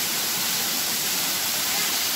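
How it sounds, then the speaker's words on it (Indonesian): Steady broadband roar of a mountain waterfall at a campsite in Cibodas, a constant close rushing hiss of falling water with no break. "Ini lagi nyoba air terjun nih"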